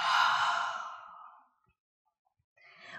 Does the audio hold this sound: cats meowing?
no